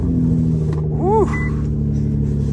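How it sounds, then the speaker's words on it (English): Warm Nissan GT-R engine idling with a loud steady low rumble and one brief rise in revs partway through, heard up close and continuously. "You liking that cold start? Well, not a cold start. It'd be a warm start"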